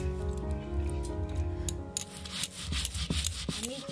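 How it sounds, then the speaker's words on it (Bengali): Soaked rice is ground into a fine paste with steady rubbing and scraping strokes, close and fairly quiet, with sharper clicks near the end. "চালগুলো সব বেটে নিচ্ছি।"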